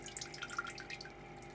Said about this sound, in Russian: одну каплю примерно в 3 секунды